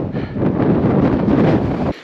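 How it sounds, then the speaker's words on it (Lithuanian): Strong, cold wind at nearly 4 km altitude in the Himalayas buffets the microphone in a continuous loud roar, then drops off abruptly just before the end. "Žiaurus vėjas"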